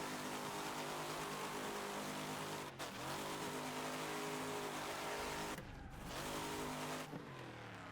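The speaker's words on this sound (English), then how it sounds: "Let's drift this now." A race car drifts through a section in the video game Wreckfest, its engine droning and revving loudly with tire squeal, pitch sweeping up and down through two sharp gear changes and slides.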